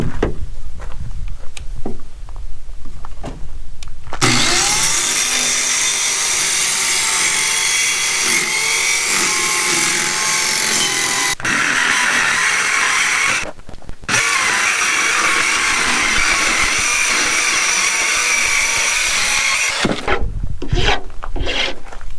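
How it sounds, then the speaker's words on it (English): A power saw cuts through plywood guided along a 2x4, a loud, steady rasping whine running for about fifteen seconds with one brief pause midway, framed by quieter handling noises before and after. "now I'm going to cut out the plywood to fit on top"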